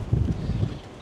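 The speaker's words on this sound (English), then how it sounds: "Oh, it's a bit windy," Wind buffets a microphone outdoors on a ferry, a low rumbling gusty roar that fills the whole short moment with no voices.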